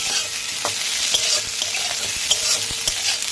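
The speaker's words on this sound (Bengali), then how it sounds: "এটা সমানে নাড়তে হয়, নাহলে জড়িয়ে যায়" Sabudana pulao being stirred in a pan, a continuous bright sizzle broken by irregular scraping clicks of the spoon, close and steady with no voices.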